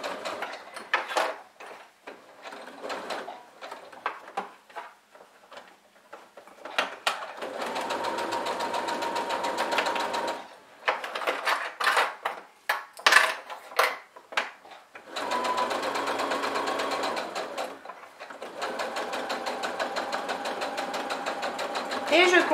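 A sewing machine stitches fabric for a pouch in several loud runs of rapid mechanical whirring, broken by short pauses and handling sounds, with someone speaking between some of the runs.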